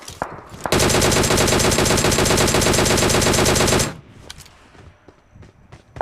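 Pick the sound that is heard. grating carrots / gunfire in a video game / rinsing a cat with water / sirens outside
gunfire in a video game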